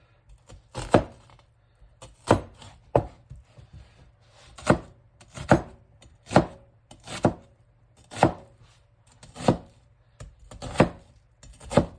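A kitchen knife slices through an onion on a cutting board for kimchi, about a dozen crisp, evenly spaced chops in a steady rhythm, close and clear with no talking.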